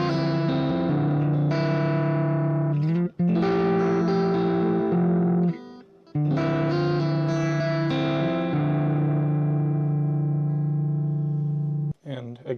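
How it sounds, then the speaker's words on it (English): Sustained electric guitar chords through a Positive Grid Spark 2 amp ring out with a washy reverb tail, each strum blooming and decaying into a lingering ambient trail, with short gaps between. "so you can hear the reverb real quick"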